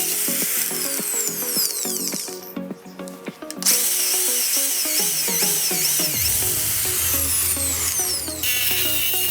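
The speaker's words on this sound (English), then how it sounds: "Drill one hole on top of the bushing using a 6mm drill bit." A power drill with a 6mm bit whines loudly up close, its pitch shifting as it bites into a metal bushing, with brief pauses and a steady grinding drone.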